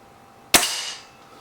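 A Webley VMX Quantum air rifle fires a single shot, a sharp, close crack followed by a short ringing decay.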